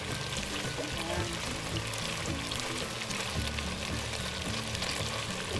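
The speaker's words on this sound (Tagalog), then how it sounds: "Tapos magigisa na po tayo." Chicken sautéing in a pan for Filipino pochero, a steady close sizzle and frying hiss with faint stirring, continuous throughout without talk.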